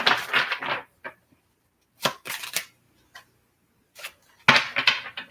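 Tarot cards are shuffled by hand. Several short, crisp bursts of riffling and flicking come in separate clusters with quiet gaps between them, close and without speech.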